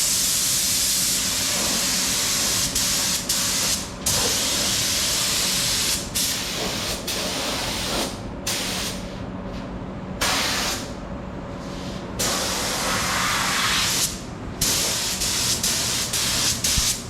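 Spray gun spraying paint onto a Daytona car body, a loud, close, continuous hiss broken by brief gaps as the trigger is released and pulled again, with a faint steady hum underneath.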